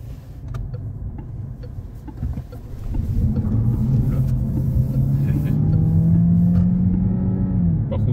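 Engine of a Peugeot 308 GT revving and shifting gears close to the rev limiter, heard from inside the car with rising engine tones that climb and fall across the gear changes, steady and moderately loud.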